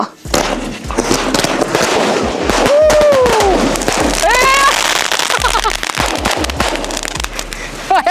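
Rapid bursts of sky shot firework crackles and bangs mixed with whistling rising tones, loud and close, with people talking in the background.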